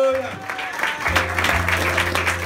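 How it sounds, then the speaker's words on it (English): A church congregation at an annual award ceremony breaks into clapping that builds and continues over a steady bed of music, with voices mixed in, loud and close. "Can you please clap for her?"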